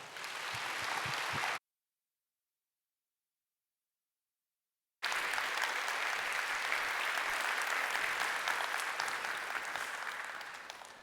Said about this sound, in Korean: 목사님 환영하는 마음으로 우리 박수로 모시도록 하겠습니다